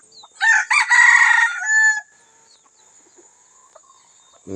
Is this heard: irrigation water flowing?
no